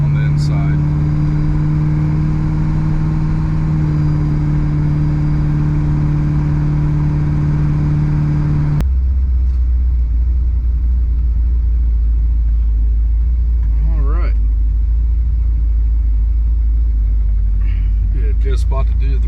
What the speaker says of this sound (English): While the car is running, I'm going to go ahead and let you listen to the way it sounds, the exhaust on the outside.